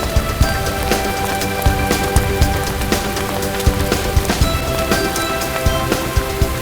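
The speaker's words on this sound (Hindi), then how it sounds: "बारिश कहाँ से आ गई चलो यार?" Steady rain pattering densely on a hard surface, with irregular heavier drops tapping close by throughout.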